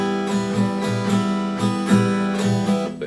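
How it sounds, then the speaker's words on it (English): Guitar chord fretted without enough finger pressure, strummed up and down in an even rhythm so some strings buzz or deaden within the chord; close, solo playing with no voice. "But so I'm not pressing hard enough now."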